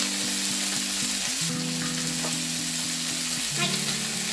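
Spare ribs sear in a covered waterless pot, a loud, dense, even sizzle that holds steady for a few seconds alongside a faint tonal hum.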